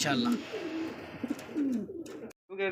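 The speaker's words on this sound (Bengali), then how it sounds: "এখানে আরো একজন কবুতর দেখেন" Racing pigeons coo close by, a run of soft throaty phrases over a steady background murmur that drops out briefly near the end before the cooing resumes.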